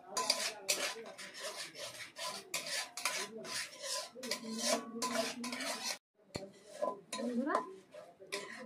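A utensil stirs thickened milk in a pan on a gas stove, with repeated close, raspy scraping strokes in an uneven rhythm. There is a brief pause before the stirring resumes more sparsely.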